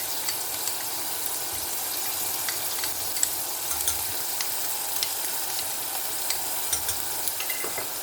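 Onions fry in a pan with ginger-garlic paste and green chillies, a continuous close sizzle with small crackles and pops and faint stirring scrapes, steady throughout with no voices.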